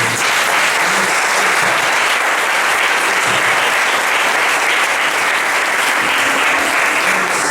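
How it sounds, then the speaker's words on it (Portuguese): A church congregation applauds during a worship service, loud sustained clapping from many people that fills the whole stretch evenly without pause. "Dá um aplauso ao Senhor."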